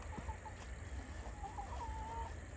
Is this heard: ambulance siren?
no